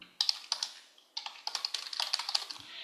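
Rapid clicking keystrokes on a computer keyboard as an email address is typed, in two bursts separated by a short pause, close and fairly quiet with no talking.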